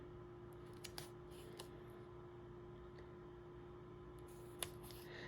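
Scissors cutting paper in a quiet room, a few faint, sparse snips and clicks over a low steady background hum.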